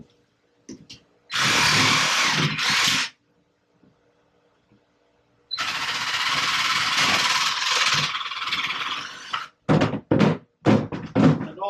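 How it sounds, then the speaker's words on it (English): A jigsaw cuts a piece for a stone crab trap in two loud, close bursts: a short cut, a pause, then a longer one, followed by several sharp knocks as the piece is handled. "I'm going to cut this piece off there and there with the jigsaw."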